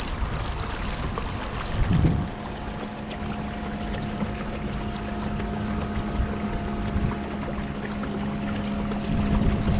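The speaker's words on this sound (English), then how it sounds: "Here I'm dealing with a boat on the ICW." A motorboat engine on the Intracoastal Waterway drones steadily nearby on smooth water, a low continuous hum with some wind buffeting the microphone.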